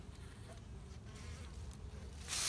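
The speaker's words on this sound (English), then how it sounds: "These bees are oddly calm right now." Honeybees hum around an open, heavy hive box full of honey during beekeeping, a low steady drone with no talking, rising to a louder rush near the end.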